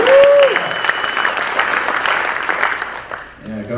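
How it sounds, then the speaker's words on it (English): An audience at an Android developer keynote claps in a loud, dense burst that holds steady for a few seconds and then thins out. A voice is heard briefly at the start and again near the end. "go for the applause break every single time, no matter how cheap"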